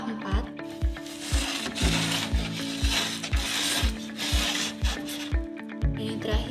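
The ratchet wheels of an IntegRoll math teaching aid are turned by hand, giving a steady run of loud, close clicking pawl ticks at roughly even intervals while a voice talks softly in the background.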